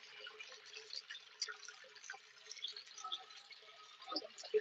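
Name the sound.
LG ThinQ MEGA washer draining water after main wash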